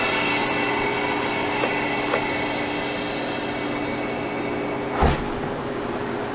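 A freeze dryer hums steadily as its drain valve is opened, a continuous machine drone with a soft click midway and a sharper hiss or clunk near the end.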